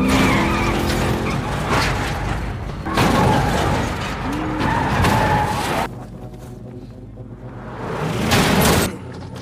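A car in a chase is rammed by another car, giving loud tire skids and screeches with crunching impact noise, several bursts of squealing tires close up, and no speech.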